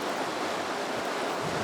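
River water rushes steadily past a riverbank where someone is hand carving wood, a continuous broadband wash with no break, close and fairly loud throughout.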